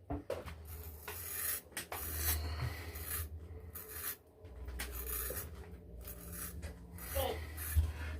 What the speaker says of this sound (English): He sees me shaving with soap